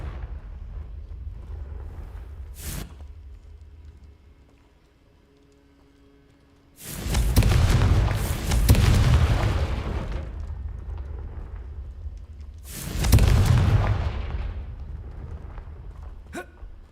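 Fire spell explosions cast in the wizarding video game Hogwarts Legacy, with two loud, broad booming blasts a few seconds apart, each rumbling and fading out, plus a brief sharp pop earlier over a low game background.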